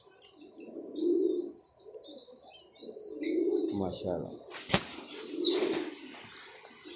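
Pigeons with their young coo in low rolling bursts while chicks give thin high cheeps, close by, with wing flaps and a sharp rustle midway; someone speaks briefly over them.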